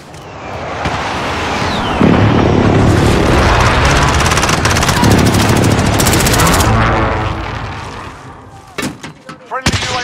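Call of Duty: Modern Warfare multiplayer combat plays loud and close, with dense gunfire and booming explosions that thin out toward the end. A few brief voice callouts come through over the shooting.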